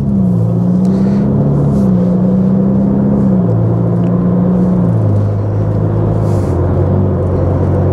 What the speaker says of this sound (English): I can still hear the engine rumbling.